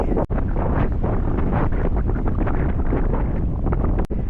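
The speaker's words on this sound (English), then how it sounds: "And it's a really windy day." Strong wind in Copenhagen buffets the microphone in a constant loud roar, with brief dropouts as gusts shift.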